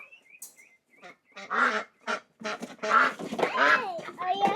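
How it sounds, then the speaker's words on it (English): Loud, harsh quacking and honking from several birds close by, calls overlapping in rapid bursts. "They are loud ducks."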